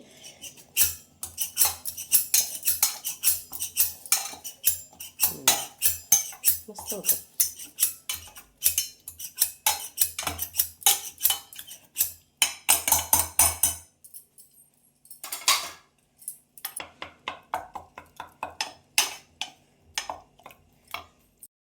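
Repeated soft metallic clatter and scraping of a utensil mashing cooked ridge gourd in a pan, in irregular bursts with brief pauses, and a short spoken remark partway through.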